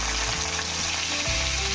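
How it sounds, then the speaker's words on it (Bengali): Onions sizzle steadily in hot oil in a village kitchen, a loud, dense frying hiss that continues without a break. No voices are heard. "পেঁয়াজ ভাজা হয়ে গেছে"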